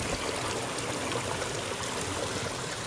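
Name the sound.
shallow river flowing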